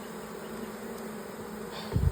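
Bees swarm around a hive in a steady, low insect hum, with a louder buzzing swell as one passes close near the end.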